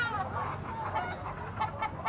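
A stag, a young gamecock rooster, clucks in short repeated bursts close by, with soft farmyard background noise between the calls.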